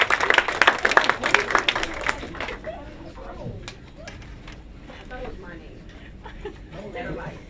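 An audience claps for a winning team at a project presentation event, a burst of dense applause that fades after about two seconds, followed by murmuring crowd and scattered voices.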